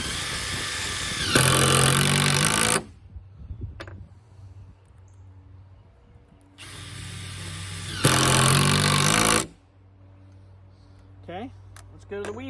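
Makita power tool motor running in two loud bursts of several seconds each, close and buzzy, with quieter stretches of handling noise and faint background sounds between them.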